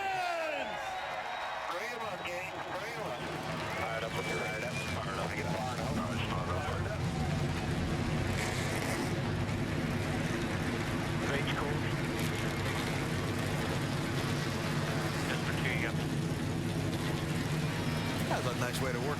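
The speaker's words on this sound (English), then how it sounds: "So the field fired up and getting ready to roll off" A full field of NASCAR stock cars fires up at Loudon's New Hampshire speedway, their engines rumbling together in a dense, sustained roar with revving swells throughout, joined by a few voices and some distant clanks.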